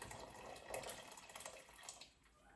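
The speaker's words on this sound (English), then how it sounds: "I need more water inside the pot here with the beans, so I'm gonna put a little bit more water." Water pours into a pot of beans in a faint, short trickle that splashes softly for about two seconds and then stops.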